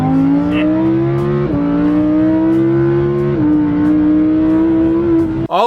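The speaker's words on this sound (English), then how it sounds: "I'm gonna hop in the Lambo now. This thing is stupid loud." A Lamborghini engine revs loudly and steadily close up, its pitch climbing in stepped rises as it winds up, with a sharp burst of revving at the very end.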